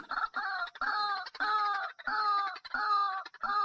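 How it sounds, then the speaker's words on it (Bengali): A white-breasted waterhen calling, loud close repeated harmonic honking notes in a steady rhythm of about six phrases, with nothing else audible. "গ্রাম বাংলায় রাতের বেলার ঝোপের ভেতর থেকে কোয়াক কোয়াক ডাক শুনেই চিনতে পারা যায় কাহক পাখির ডাক।"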